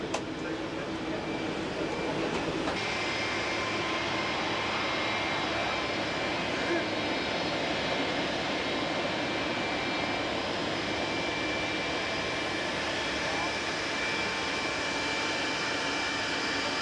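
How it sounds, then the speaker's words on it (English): Steady, loud jet engine roar from a Boeing 737 airliner, filling the whole stretch as a continuous broadband drone with a faint whine on top, heard from close by around the aircraft during a 1990 trip. "Here's our plane, Boeing 737."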